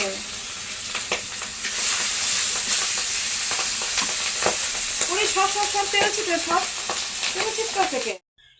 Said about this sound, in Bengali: এত পরিমাণে তেল ছিটছে, মানে পটপট করে আওয়াজ হচ্ছে মাছ ভাজার সময়।